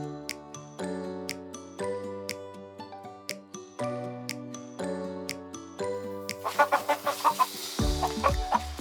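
Chickens clucking on a farm, a run of short clucks over a steady musical backing, growing busier and louder toward the end.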